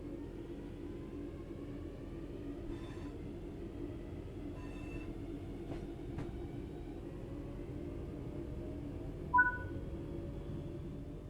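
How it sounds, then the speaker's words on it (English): An electric train in Train Sim World 4 starts to move forward, giving a low steady rumble with faint rising motor tones, a few brief clicks, and a short beep near the end, with no talking. "We want to move the train forwards."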